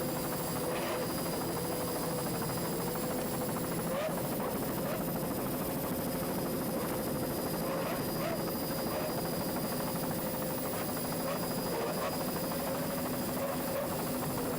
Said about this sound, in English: Let's listen to those two 200 horsepower Johnson outboards.